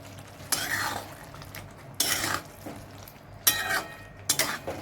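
A spoon scrapes and stirs raw banana curry with peanut powder, coriander and masala in a pan, in four distinct bursts of clattering against the metal with quieter pauses between.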